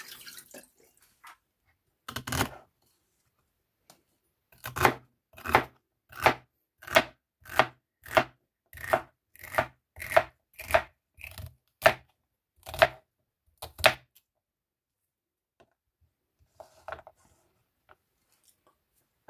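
A knife chops celery on a board for a smoothie, a short pause after an early cut, then about a dozen sharp, evenly spaced strokes close up, followed by quiet faint handling.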